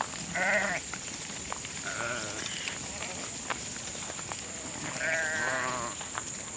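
Several breeding sheep (ewes) bleat intermittently, a few close calls rising and falling over steady background noise, with a person talking faintly in between.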